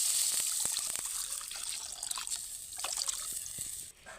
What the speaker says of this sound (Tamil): இப்போ நம்ம எடுத்து வச்சுருக்க பருப்பு தண்ணி எடுத்து ஆட் பண்ணிக்கலாங்க